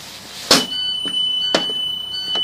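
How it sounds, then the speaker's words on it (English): A loud, steady high-pitched emergency buzzer inside a bus sounds continuously during a pre-trip inspection, punctuated by several sharp clunks and thumps nearby. "the emergency lights and buzzers should come on"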